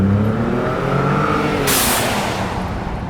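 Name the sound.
Ford Raptor turbo blow-off valve venting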